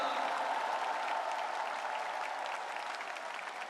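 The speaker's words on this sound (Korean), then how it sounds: "박수 한번 부탁드립니다." A large party convention crowd applauds after a candidate's acceptance speech, a broad, even wash of clapping that holds steady across the whole stretch without talk.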